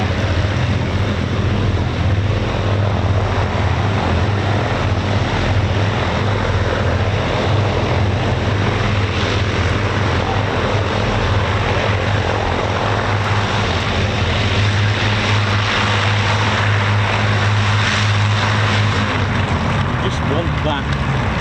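Avro Lancaster NX611 bomber's piston engines running at the Lincolnshire Aviation Heritage Centre, East Kirkby, a loud, steady propeller drone filling the whole span, with someone talking over it.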